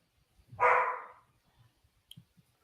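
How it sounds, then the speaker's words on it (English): A single sharp dog bark sounds close and loud from inside a house, then a few faint clicks and knocks follow in a quiet room. "so who's got dogs barking?"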